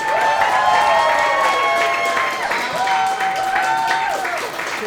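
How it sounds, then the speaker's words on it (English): Open mic crowd applauding and cheering for Joan, a steady wash of clapping with whoops and sustained shouted tones over it, loud and continuous throughout. "Round of applause, show love for the person that brought me back to life."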